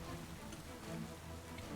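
Steady rain weather ambience from the video game Pokemon Scarlet & Violet, a soft continuous hiss of falling rain with no pauses, alone and even in level throughout.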